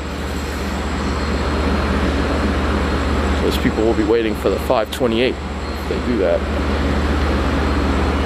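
Constant droning rumble of a Long Island Rail Road train heard from on board, with a person talking briefly over the steady hum in the middle.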